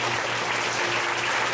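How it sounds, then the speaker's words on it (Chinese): Audience at a primary school graduation ceremony applauding to welcome a guest speaker, a steady, loud, continuous burst of clapping from many hands. "来，掌声欢迎"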